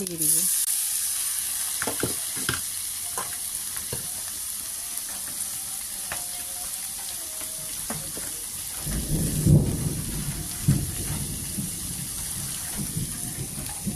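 Onion, garlic, ginger and green chilies fry in a pan with a steady hiss and scattered ticks, swelling partway through into a louder, denser sizzle as they are stirred; close, with no speech.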